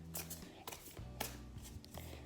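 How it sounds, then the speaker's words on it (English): A deck of tarot cards is given a quick shuffle, producing several short soft bursts of riffling and slapping across a couple of seconds, close and quiet, with a faint low hum underneath. "let me give them a quick shuffle"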